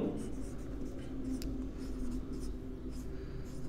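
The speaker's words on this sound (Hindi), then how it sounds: "तो मैं यहां लिखता हूं" Chalk or a marker squeaks and taps across a board as a maths teacher writes during a lesson, with quick strokes and a low voice faintly underneath.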